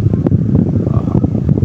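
An Asahi electric fan with a worn bushing and shaft runs at speed 2, giving a steady rushing whir of moving air with faint rattling, close and continuous.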